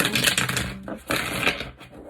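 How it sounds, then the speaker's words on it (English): Tarot cards being shuffled by hand close to the microphone, two short riffling bursts separated by a brief pause. "So actually, let's give this a shuffle. We're going to give it 3 shuffles."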